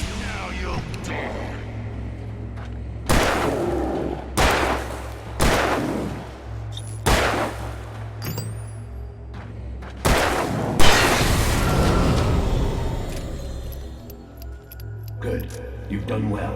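Gunshots in the video game Alan Wake Remastered: several loud, sharp blasts spaced a second or two apart, each with a booming tail, over steady low ambient drone and a speaking voice.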